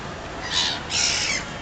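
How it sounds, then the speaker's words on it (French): Seagulls squawk in an amusement park, two harsh, drawn-out calls in quick succession, fairly close and loud over a steady background hiss. "En plus on se fait attaquer par des mouettes."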